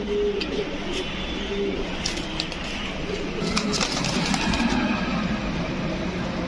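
Pigeons kept as high-flyer breeds cooing softly in a coop, a steady low murmur running through constant background noise, with a voice talking over parts of it.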